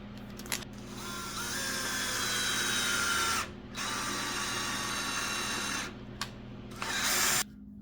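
A power drill drives a 1/4-20 bottoming tap into a Craftsman 113 table saw extension, its steady whining motor running loud and close in long bursts, broken by brief stops and restarts with a ratcheting mechanical edge.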